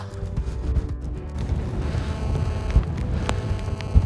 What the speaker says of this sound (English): Horrendous this wind, awful.